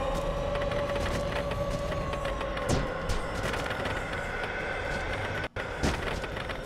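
A train in the video game Choo Choo Survivor rumbles steadily with a sustained mechanical drone, broken by a few sharp bangs and clanks that cut through the noise.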